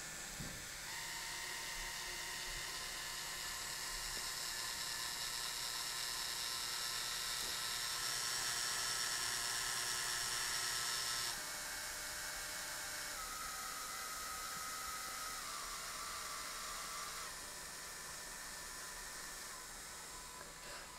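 DC motors on a small Raspberry Pi Pico four-wheel-drive smart car whir steadily with a faint, high mechanical whine that shifts pitch in steps as the speed changes.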